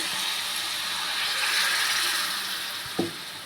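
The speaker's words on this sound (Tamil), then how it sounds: "கொஞ்சமாக தண்ணி ஊற்றி" A steady, hissing sizzle of water poured into chicken masala with turmeric frying in a pan fills the clip, with a short knock near the end.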